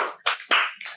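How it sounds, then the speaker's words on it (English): Three or four sharp, separate hand claps ring out close and loud in quick succession, spaced about a quarter second apart, at the start of a video game podcast with no talk over them. "Please clap."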